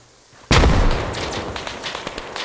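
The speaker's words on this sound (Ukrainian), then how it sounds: "Давай гранату. Пошла. Граната, граната, відходь, відходь." A grenade goes off in the military shooter Arma 3 with a sudden loud close blast, followed by a rumbling decay and scattered crackling shots in the background.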